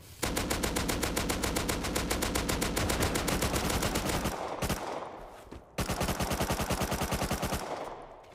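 Rapid automatic gunfire in Rust during a base raid, a dense steady stream of close loud shots, a short pause, then another sustained burst.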